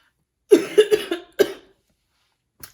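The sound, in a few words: cough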